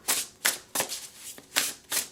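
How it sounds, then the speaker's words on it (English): Tarot or oracle cards are shuffled by hand in a quick series of crisp riffling bursts, about six close, loud rustles with brief pauses between them and no talking. "Shuffle, shuffle, shuffle."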